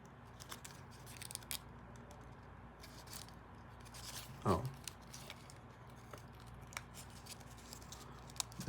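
A paper model of an F-37 Vigilante is folded and creased by hand, producing faint, close crinkles and soft paper rustles with one louder crisp crunch partway through.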